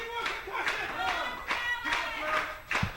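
A wrestling crowd claps and cheers in a steady rhythm of bursts, moderately loud and fairly close, with a voice talking over it.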